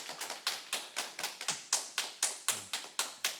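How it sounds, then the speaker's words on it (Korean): A church congregation clapping to welcome a missionary, with about a dozen crisp, reverberant claps landing together in a steady rhythm roughly four per second. The claps stand alone with no talk over them. "우리 선교사님 나오실 때 우리 박수로 환영할까요?"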